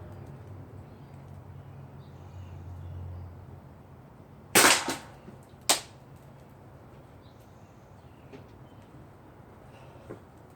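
A Remington 1100 air shotgun fires a three-BB load at a target about nine yards away. A single sharp, loud crack is followed about a second later by a shorter snap, over a quiet outdoor background.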